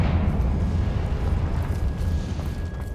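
A Confringo fire spell blast in Hogwarts Legacy, a deep rumbling boom with crackling burst that fills the whole moment, loud and sustained without any talk.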